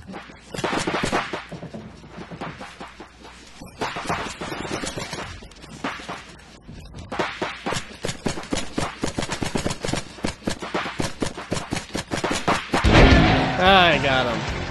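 Paintball markers firing in the video game Greg Hastings Paintball 2, with rapid bursts of repeated shots under frequent talk from a player.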